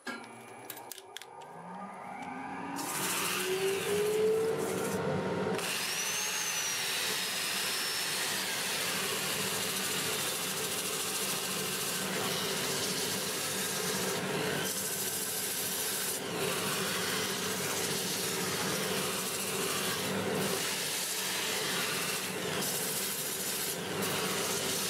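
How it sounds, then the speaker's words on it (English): Cherry wood bowl spinning forward on a lathe at about 400 RPM while being sanded with a 2-inch disc up to 400 grit, a steady, continuous abrasive rubbing whir with a low motor hum throughout, close and fairly loud. "Lathe will be running forward at about 400 RPM."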